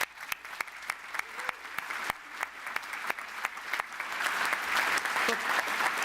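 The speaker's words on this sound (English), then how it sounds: "I think that does enjoy a really good big round of applause for that achievement" An audience applauds at a university graduation ceremony in London, with sharp individual claps standing out at first, then building into a fuller, denser ovation.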